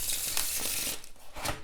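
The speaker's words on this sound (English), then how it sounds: "I'm just gonna quickly show you how this beautiful deck shuffles, because it shuffles like a dream." Tarot deck printed on linen cardstock being shuffled by hand: quick, crisp riffling and flicking of cards in short bursts, close and fairly quiet.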